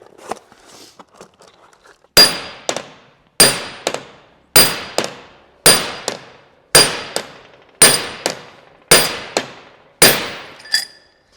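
A big hammer strikes an aluminum seal driver pressing bearings into a Ford F-250 differential, eight loud, ringing metallic clangs evenly spaced about a second apart, close and alone.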